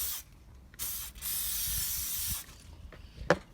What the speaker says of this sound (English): I'm going to spray some more and leave it on